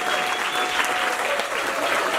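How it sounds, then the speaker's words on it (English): Theater audience applauding at the close of a short-play festival in Key West, a dense, continuous wash of clapping from a full room, steady and loud throughout the brief stretch. "Give yourselves a round of applause for coming out and supporting one another."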